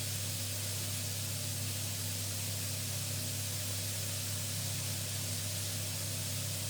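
Lardons sizzle in a hot frying pan while being seared for a quiche Lorraine, a steady close crackling hiss that runs unbroken over a low hum, with no talking.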